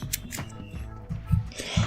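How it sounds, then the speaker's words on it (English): Yu-Gi-Oh cards being shuffled by hand, a soft papery riffling with a few brief louder flutters near and alone over about two seconds. "Give it a little bit of a shuffle"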